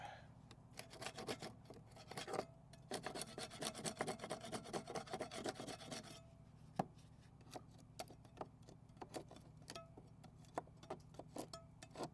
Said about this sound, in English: scrape a little bit here. Scrape.